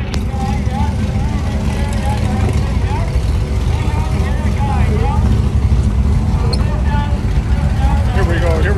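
At a dragstrip shootout, a Dodge drag car roars under hard acceleration, a loud, dense engine rumble that holds steady throughout while people talk close by over it.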